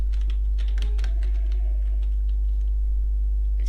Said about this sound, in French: ou pour le son de mon clavier